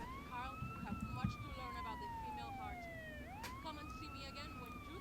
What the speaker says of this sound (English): this cutscene is really meaningless with the sirens blaring over it